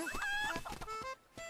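Chicken clucking in the video game Link's Awakening, a quick run of bright chirpy game clucks with overlapping tones, fairly faint and ending abruptly.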